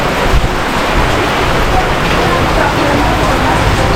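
Heavy rain and strong wind at a house in a storm: a steady, dense hiss of rain with wind noise running unbroken through the whole stretch. No voices are heard.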